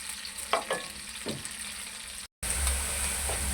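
Chopped onions fry in a pan for a desi chicken and tinday curry, giving a steady faint crackle with a few louder stirring scrapes, then a brief gap before the sizzle picks back up.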